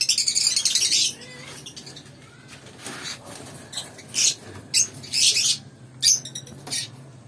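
A green pet bird kept in a cage chirps in a burst of shrill tweets, then gives a series of short, separate chirps, close by and clear against quiet surroundings.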